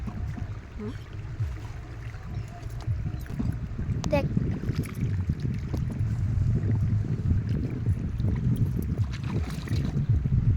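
Wooden boat rowed across floodwater outdoors, with soft splashes and knocks of the oar under steady wind noise, and a voice talking intermittently nearby.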